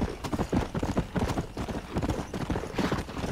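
Horse hooves clip-clopping steadily as a rider moves along in Red Dead Redemption, a brisk, close rhythmic patter of hoofbeats running throughout, with an occasional faint whinny.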